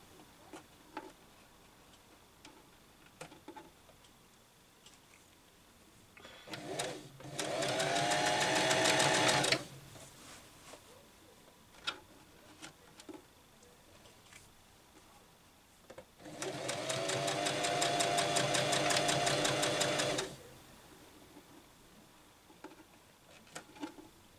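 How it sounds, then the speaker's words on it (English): A sewing machine stitches a gathered gown sleeve in two bursts of rapid mechanical whirring and ticking, each about three to four seconds long, separated by quiet handling sounds. "Start stitching."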